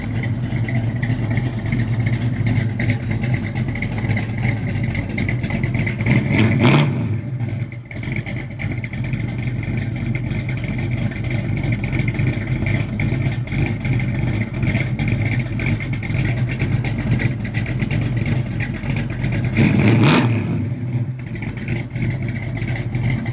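A 1967 Chevrolet Camaro RS/SS convertible with a big block engine rumbles steadily and loudly close by, with two brief surges as it revs.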